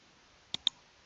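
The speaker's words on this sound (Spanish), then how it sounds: "o directamente voy a hacer Control S en el teclado" Two quick, faint key clicks from pressing Control S on a computer keyboard, sounding about a tenth of a second apart in an otherwise quiet room.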